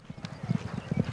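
Herd horses clip-clop on a frosty May morning in western Colorado during the Great American Horse Drive, many hooves striking in a quick, uneven patter close by.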